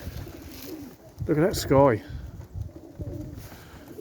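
Young aviary birds on a roof searching for food give soft cooing calls, close by, mixed with a person talking over them.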